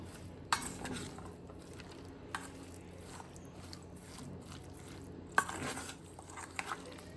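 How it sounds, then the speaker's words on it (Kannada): Mint and salt are stirred into veg biryani in a pot, giving a few sharp spoon-against-pot clinks and soft scraping strokes at a quiet, close level. "ಇದನ್ನೆಲ್ಲ ಸ್ವಲ್ಪ ಮಿಕ್ಸ್ ಮಾಡಿಪ್ಪ."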